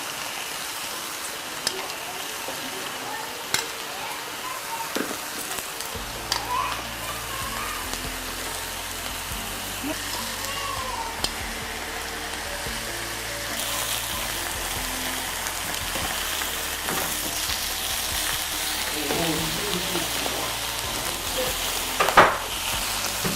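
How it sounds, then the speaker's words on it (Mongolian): Meat frying in a hot pan on a heated cooking plate sizzles steadily throughout, with occasional clinks and stirring noises and a low hum underneath. "За тэгээд маха тойруулж тавиад"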